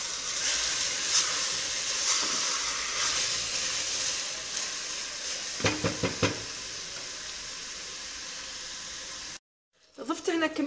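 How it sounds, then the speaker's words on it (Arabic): Chicken wings, washed with vinegar and salt and then salted, frying in a pan: a steady, loud hiss and sizzle of hot oil, with a few knocks partway through, a brief cutoff, then clattering noise. "ونقليهم"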